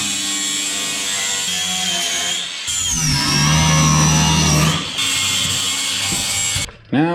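Sheet metal cab floor of a Chevy S10 being trimmed with a power tool, a steady loud cutting whine running continuously for several seconds with a brief dip near the end.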